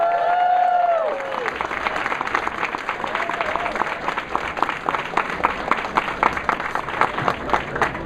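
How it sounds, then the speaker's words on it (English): An audience at an Atlanta Pride kickoff party gives a round of applause for a guest speaker, dense clapping from a crowd that begins as a host's voice trails off and continues evenly. "Let's give Stuart a round of"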